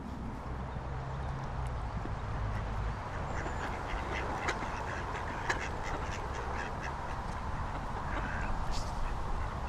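Ducks quack around a park duck pond amid a steady wash of outdoor ambience, their calls scattered and fairly faint, with people talking in the background.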